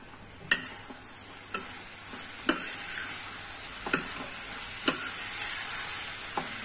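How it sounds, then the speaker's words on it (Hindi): Chopped ridge gourd fries and is stirred in a pan over high flame, with a steady sizzle broken by a series of sharp spoon scrapes and clacks at irregular intervals, close and fairly quiet, with no talk. "अब इसमें हम अपनी जो तोरी है वो ऐड करेंगे। थोड़ा आप इसे हाई फ्लेम पे कर दीजिए।"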